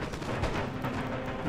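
Musket volleys ring out on a battlefield in Empire: Total War, a dense, continuous crackle of gunfire with heavier booming thumps, loud and sustained throughout.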